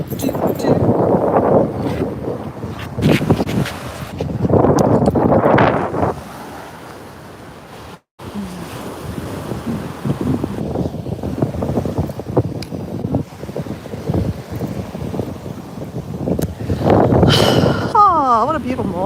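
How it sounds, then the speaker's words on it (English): Strong seaside wind buffets the microphone outdoors on a morning by the water, with gusty roaring surges that rise and fall, and a brief near-silent drop partway through. "Bit of wind, guys."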